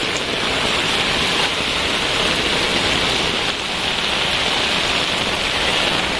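Heavy rain pours steadily and loudly during Typhoon Carina and monsoon flooding, a dense unbroken wash with no talk.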